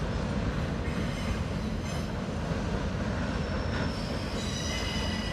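A BNSF train crosses the Salmon Bay Bridge, a loud, unbroken rumble of wheels and railcars with a thin high metallic squeal riding on top, heard close and constant throughout.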